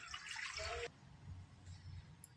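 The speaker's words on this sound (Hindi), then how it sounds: "तो ये कढ़ाई को रख देती हूँ और डाल देती हूँ पानी।" Water poured into a kadai set on a lit chulha, a short splashing pour that lasts under a second and then stops, leaving quiet room noise.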